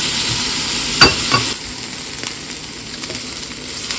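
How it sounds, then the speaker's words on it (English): Onions and peppers frying over medium heat in a pan, a steady hissing sizzle close by, with one sharp utensil knock and a few soft stirring scrapes early on. "I'll cook these for at least 5 minutes. Help soften them up a little."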